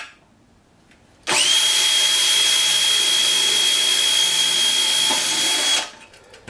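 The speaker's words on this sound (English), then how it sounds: "Now get your drill, hold it straight now." A power drill whirs loudly at a steady high pitch for about four and a half seconds, starting and stopping abruptly, close by.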